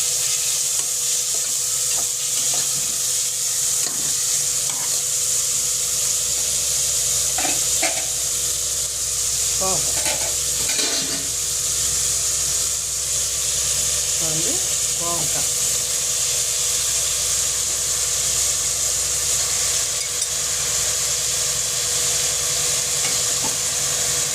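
Chopped onion and tomato sauté in a pot for ivy gourd one-pot rice, a continuous close sizzle and hiss with occasional scraping stirs, while a person speaks now and then over the frying.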